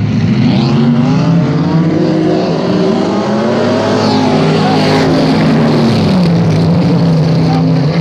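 Race cars accelerate hard at a restart, engines roaring loud and close in a continuous rising and falling drone of several cars revving together, with no clear voices.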